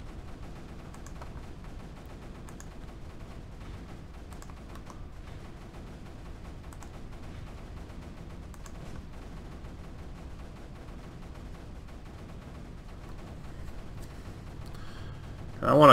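Cannons and mortars in the Creeper World 3 strategy game fire in a quiet, continuous crackle of small shots and thuds, with a louder burst at the end.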